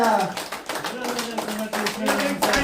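Audience clapping in uneven bursts, while a voice talks over the claps throughout.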